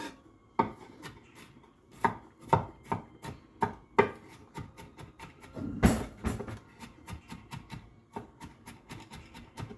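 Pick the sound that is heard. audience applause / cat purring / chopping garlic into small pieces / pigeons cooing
chopping garlic into small pieces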